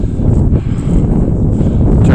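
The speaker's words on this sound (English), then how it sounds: "It's pretty cold out here and windy, so sorry for the wind." Heavy cold wind buffets the microphone on a sports field in a steady low roar for the whole stretch, loud and close, with no voices.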